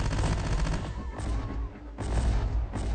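Frag grenades and gunfire in the Terminator Dark Fate: Defiance battle game, heard as a series of loud booms and bursts that come close together, one sharp blast standing out near the end.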